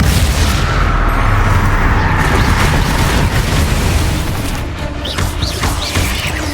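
Spell blasts in the Hogwarts Legacy game roar loud and dense, rumbling booms and crashes blending into a continuous barrage that eases slightly near the end.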